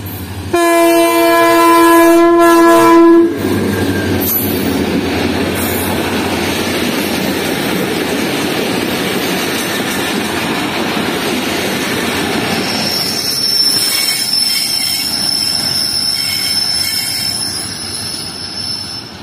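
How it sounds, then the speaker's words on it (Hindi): Farid Express passenger train passing at high speed: a loud horn blast opens it, followed by a sustained, close roar of wheels and coaches that stays steady for the rest. "बहुत अच्छी स्पीड में गई है फरीद एक्सप्रेस यहाँ से।"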